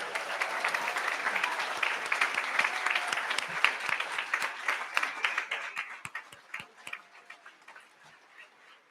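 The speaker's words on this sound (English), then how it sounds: "Let us all give them a round of applause." Audience applause for interns at a university white coat ceremony, a steady dense clapping that thins into scattered individual claps near the end.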